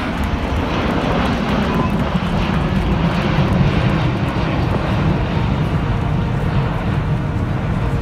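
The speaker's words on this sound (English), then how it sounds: "The Airbus A380 and its unbelievable vertical takeoff." An Airbus A380 airliner takes off, its jet engines giving a loud, continuous roar that holds steady throughout with no voices over it.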